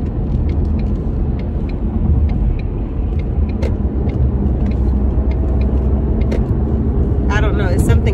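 A car cruises along an interstate with steady road rumble and engine noise throughout, heard from inside the vehicle; a brief brighter whine rises near the end.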